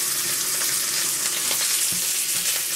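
Two rectangles of pork belly searing in a hot pan, giving a loud, dense and continuous sizzle close up, with no voices.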